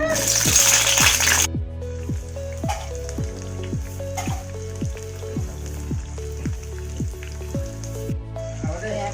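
Steady sizzling of onions frying in hot oil in a wok, crackling along continuously, with a burst of louder hissing at the start.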